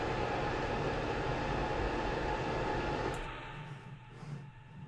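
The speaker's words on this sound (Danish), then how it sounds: "her har vi så toget i dens fulde pragt. Kører igennem det her åbenbart skovfyldt område" A German DB passenger train in Train Sim World runs at speed through a forested area, a steady loud rolling rumble and wind roar that eases off toward the end, with no voices.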